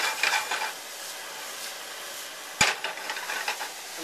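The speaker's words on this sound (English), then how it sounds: "we're going to let it stay in the hot pan and kind of brown up the cauliflower a little bit" Cauliflower and shrimp sizzle and crackle in a hot pan during a low-carb stir fry, with a soft continuous hiss and a sharp utensil knock against the pan partway through.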